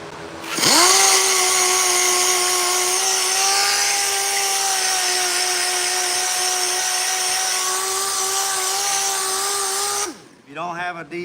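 A power sander fitted with 80 grit sandpaper works a homemade battery tray for a 1968 LeMans, whining in one loud, steady, unbroken tone for about ten seconds before stopping abruptly.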